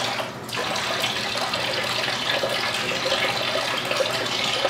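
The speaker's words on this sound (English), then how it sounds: "Now I'm just going to rinse it off." Water runs at a bathroom sink during a face rinse in a night skincare routine: a steady, fairly loud splashing stream that begins after a brief pause and continues without letup.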